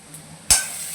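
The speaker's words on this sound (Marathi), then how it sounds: "मिक्स करून घेऊया, एखाद मिनिटभर छान असं परतून घेऊया, कारण की आलं लसूण आणि मिरची थोडासा कच्चेपणा जाऊ देऊया" Ginger, garlic and chilli masala stirred in a hot pan: a quiet hiss, then a sharp clatter of a utensil against the pan followed by a sustained sizzle.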